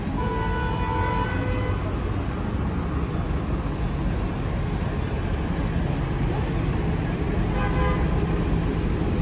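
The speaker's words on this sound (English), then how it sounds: "You hear everybody beeping the horn? Tons and tons of traffic." Busy downtown traffic at a city intersection in Paterson, New Jersey, with car horns beeping amid a constant roar of engines and road noise, heard up close from the street.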